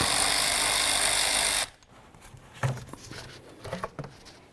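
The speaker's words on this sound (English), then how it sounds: "Just loosen up the clamp right there." An air inlet hose clamp is loosened with an 8mm tool or flathead on a 5th-gen Dodge Grand Caravan engine bay. A loud, steady whirring runs for about a second and a half, then stops, followed by scattered light clicks and handling knocks close by.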